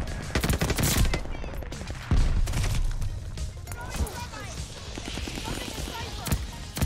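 Call of Duty Vanguard video game gunfire: dense automatic bursts and single cracks rattle close and loud over several seconds, with voices faintly present.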